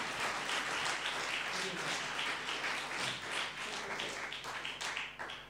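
Sustained audience applause after a talk at a Webmontag Frankfurt meetup, a dense, even wash of clapping that carries on throughout with a slight swell and fade.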